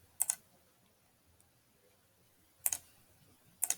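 A computer keyboard being typed on to enter numbers into Desmos gives three short, isolated clicky bursts, well spaced and fairly close. The room is otherwise quiet.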